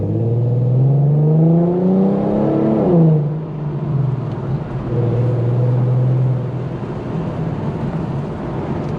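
A tuned E85 Infiniti Q50 revs during a night drive, its engine note climbing steadily, blipping sharply for a rev match, then settling into a lower, steady drone with road noise.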